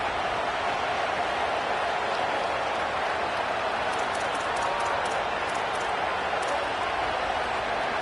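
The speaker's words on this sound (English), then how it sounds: "how nice is it to have the home crowd going absolutely bananas?" Home crowd cheering and roaring at a football scrimmage against Alabama, a dense, steady wash of crowd noise that holds loud from start to finish with no pauses.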